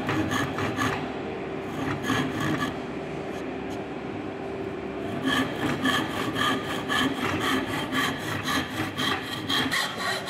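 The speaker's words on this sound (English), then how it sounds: "we will cut with this cross cut saw or hex saw" A hand cross cut saw works through wood in a carpentry workshop, rasping back-and-forth strokes in rhythmic bursts, close and clear, pausing briefly in the middle before resuming.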